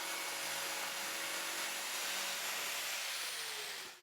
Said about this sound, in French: recoupez à la scie sauteuse, sciez sur la face de parement avec une lame à dents inversée